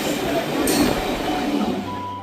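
A train at Bauria station, bound for Panskura Junction, gives a steady, fairly loud rumble with a brief hissing burst and faint clinks over about two seconds.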